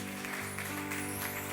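A church congregation applauds steadily for about a second and a half, a continuous wash of clapping over sustained musical tones.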